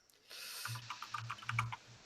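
Computer keyboard typing comes through as a short flurry of soft, close clicks over a faint low hum, fairly quiet and steady for under two seconds.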